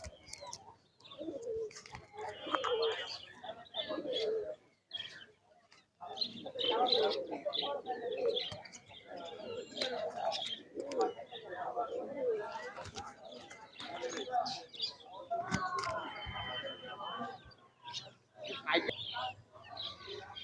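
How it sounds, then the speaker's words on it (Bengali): Rampuri pigeons coo at a large pigeon market in Khalishpur, Khulna, repeated soft throaty calls mixed with chirps and other birds, while people talk throughout nearby. "কবুতারের রামপুরিটা ডাকটাও দেখেন ডাকটা দেখাই দিই একটু রামপুরি"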